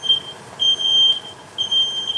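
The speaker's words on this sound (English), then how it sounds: "And now we know the fire alarm works" A kitchen smoke alarm set off by cooking smoke while a pearl barley and mackerel soup is being made gives three loud, piercing beeps, each roughly half a second long, with short gaps between them.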